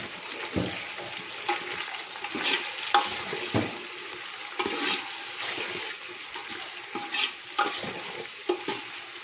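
Utensil scraping and stirring through tomatoes, green chilies and gourd in a hot pan, with a steady sizzle and irregular clinks and scrapes, close by, no talking.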